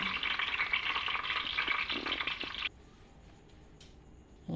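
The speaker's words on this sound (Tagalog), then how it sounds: "kailangan mo siyang halu-haluin para pantay yung luto ng ating garlic" Garlic frying in a pan, a steady bright sizzle with a few soft scrapes of stirring, then the sizzle cuts out abruptly, leaving a faint hiss and a light clink near the end.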